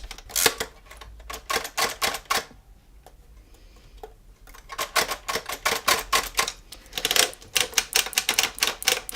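A braille writer punches out braille on paper, with loud, rapid mechanical key strikes in bursts and a short pause midway, close and alone.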